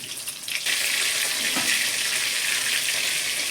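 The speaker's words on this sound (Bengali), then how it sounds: "এইভাবে সব কটাই ভেজে নেব" Oil starts sizzling loudly and steadily after a brief quieter moment, a continuous hiss of fish pakoras frying close by.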